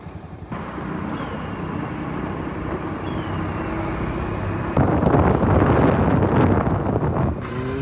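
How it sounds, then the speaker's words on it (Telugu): Road traffic on the route to Malshej Ghat in Maharashtra: a steady rumble of passing vehicles with wind buffeting the microphone, swelling louder and denser for the last few seconds. "ట్రాఫిక్ ఉంటుంది,"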